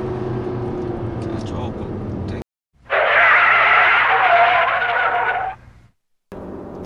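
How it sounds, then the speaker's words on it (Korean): A 2016 Fiat 500X diesel engine drones inside the cabin while accelerating, a steady hum cut by two brief silent gaps, with a voice speaking during the first stretch. "디젤 엔진 소리가 상당히 거슬립니다"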